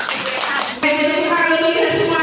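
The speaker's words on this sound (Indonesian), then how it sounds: "tepuk tangan buat Ibu Tiga." A school class claps for a teacher: a short burst of clapping, then children's voices chanting together along with the claps.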